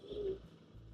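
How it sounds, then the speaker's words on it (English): Wild pigeons cooing on a rural Karnataka roadside, a soft low coo rising and fading over under a second, fairly close against quiet background hum. "Wild pigeons again."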